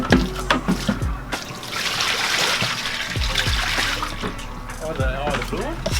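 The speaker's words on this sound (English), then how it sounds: "There's the water draining out." Water trickles and splashes out of a drain hole in a Honda Civic into a bucket, a steady close dribble with people talking over it.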